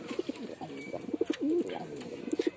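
Pigeons coo in short, soft, throaty bursts close by, several calls overlapping against a quiet background.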